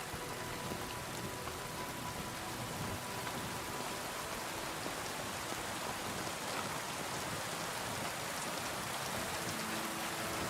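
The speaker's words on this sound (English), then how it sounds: "It's also raining in the game," Steady rain pours down in a constant, even hiss, with no voices and no breaks, a dense wash of falling drops throughout; in-game rain in the video game Kingdom Come: Deliverance II.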